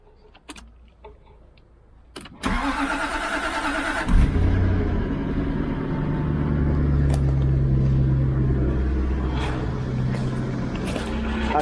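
A few faint clicks and a key sound precede a Jaguar XK8 V8 starting from icy cold: the starter catches, the engine fires with a surge, then settles into a loud, steady low idle rumble.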